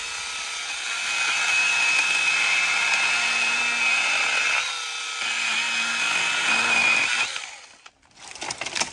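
A new Makita DUC101 cordless pruning saw cuts through wood with a steady, high buzzing whine. The note dips briefly midway, runs on, then cuts off near the end as the cut finishes.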